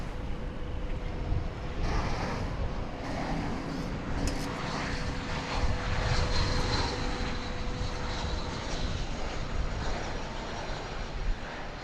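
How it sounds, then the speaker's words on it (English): An Airbus A321 jet departing DFW Airport, a loud, sustained engine roar with a steady whine, heard outdoors under wind noise throughout. "an Airbus A321. Departure today, envoy 3619. And here it comes."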